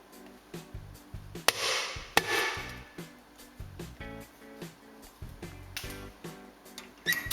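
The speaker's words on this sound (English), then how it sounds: "Remove the portafilter and tap out the coffee puck." A used coffee puck is knocked out of an espresso portafilter, giving a few sharp, close knocks amid softer clatter and handling sounds, with no voices.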